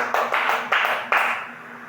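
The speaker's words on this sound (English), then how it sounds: "So let's give ourselves a 5 claps." A class of students claps together in unison: three sharp, loud group claps spaced roughly half a second apart, followed by a quiet room.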